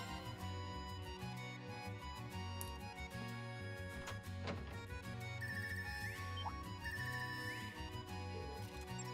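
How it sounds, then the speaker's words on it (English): An unusual phone ringtone chimes in Trails of Cold Steel III, a faint repeating electronic melody of tonal notes over quiet game ambience, with no voices. "it sounds different from the normal ringtone."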